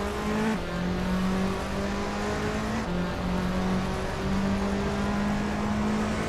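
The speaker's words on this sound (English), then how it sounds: "Pippi Langstrom is driving a 2012 Ford Focus RS." TCR touring cars race around a tight circuit, among them a 2012 Ford Focus RS, with several engines droning steadily at high revs and notes shifting as cars change gear, no voices.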